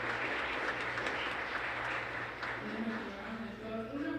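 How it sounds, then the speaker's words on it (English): Audience applause at an event, a moderate patter of clapping from a room of people that tapers gradually, heard at a distance with faint voices mixed in. "Let's give him a round of applause."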